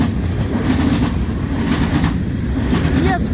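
A CN freight train rolls steadily past at Ladysmith with a distributed power locomotive mid-train, loud continuous wheel rumble and rail clatter close by, with a brief high wheel squeal near the end.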